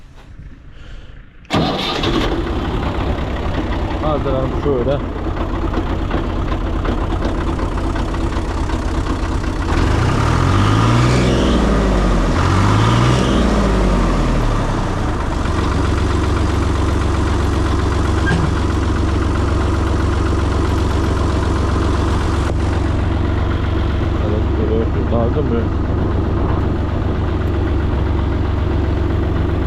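Tractor engine cranks and catches, then settles into a steady, loud diesel idle close by, with a brief surge of revving partway through; a few words are spoken early on.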